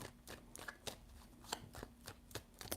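Tarot cards being shuffled by hand, a quick run of close, soft riffling flicks and slaps in an uneven rhythm, quiet and without talk.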